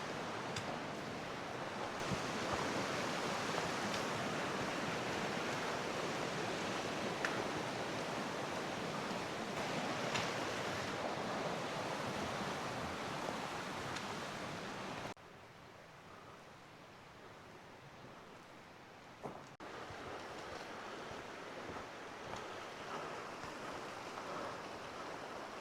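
The Big Wood River flows alongside a hiking trail with a steady, close rushing of water and some wind, which drops to a quieter level partway through before rising again. No one speaks.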